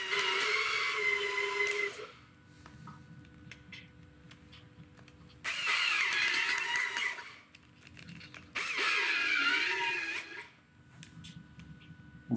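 A durable cordless screwdriver, a drill-driver of the kind from makers like Makita, runs in three loud whirring bursts of about two seconds each, with quieter pauses between them.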